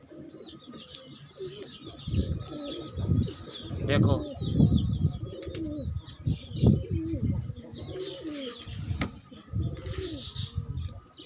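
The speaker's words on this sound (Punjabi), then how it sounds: "ਇੰਡੀਅਨ ਕਬੂਤਰ ਪੁਰਾਣੀਆਂ ਨਸਲਾਂ ਦੇ ਵਿੱਚੋਂ ਕਲਸਰੇ ਕਲਦੁੰਬੇ" Old Indian Kalsere Kaldumbe pigeons coo in repeated low, throaty bursts close by, with faint chirps and occasional wing sounds, while someone talks over them.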